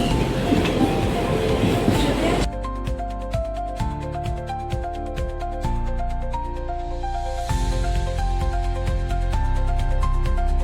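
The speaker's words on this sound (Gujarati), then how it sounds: "જોઈ શકો છો તમે, દમોટન લોકલ ટ્રેનની સફર કરી રહ્યા છે રજનીકાંતની જેમ" A Mumbai local train runs on its rails with rhythmic clickety-clack of wheels over joints and a steady rumbling drone, heard from on board, loud and continuous after an initial burst of noise.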